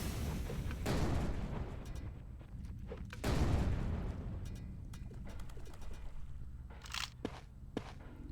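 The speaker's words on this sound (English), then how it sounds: "I just huck some TNT at a trip mine. It'll detonate it for you, buddy." An explosion from TNT detonating a trip mine in the video game Zortch, two heavy booming blasts a couple of seconds apart followed by scattered debris clatter and a short high burst.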